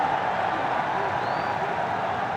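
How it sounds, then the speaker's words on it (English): A cricket crowd at a Bangladesh vs New Zealand one-day international roars after a six, a dense, steady wash of stadium noise filling the whole moment. "And a huge roar from the crowd."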